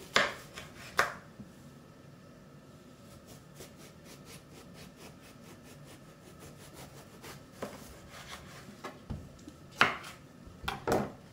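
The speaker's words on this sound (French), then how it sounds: "On va les découper comme ça en lamelles." A knife slices aubergines into strips with a few sharp cutting strokes near the start and end, separated by quieter rubbing and scraping in between.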